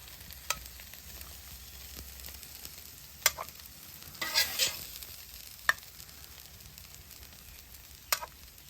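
Sausage ravioli sizzles steadily on a hot griddle, a soft continuous fry broken by occasional sharp scrapes and taps of a spatula, with one brief louder burst of stirring in the middle.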